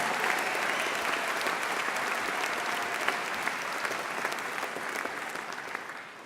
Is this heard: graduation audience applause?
yes